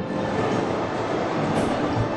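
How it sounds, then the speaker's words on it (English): A train rolls on steadily in the video game Syberia 2, a dense, continuous rumble that holds at an even level from start to finish, with no voices over it. "So Kate decided to hop on, hoping the train and its wheelman could take her to their maker, Hans Vorarlberg."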